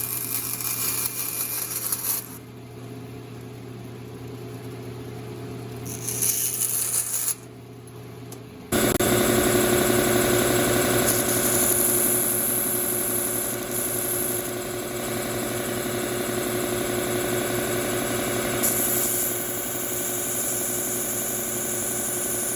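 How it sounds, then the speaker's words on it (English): A bandsaw cuts a ukulele end wedge along marked lines, a loud steady broadband whine with a blade hum that holds for most of the stretch after short idle running and a brief pause at the start. "we're just gonna bandsaw it right where we marked our little lines"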